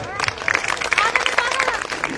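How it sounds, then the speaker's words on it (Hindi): An audience claps for the performer Mahendra Bhatti at a live event. The applause is fairly faint and sits under a voice that keeps talking throughout. "भाई जी के नाम पर ताली बजाएं"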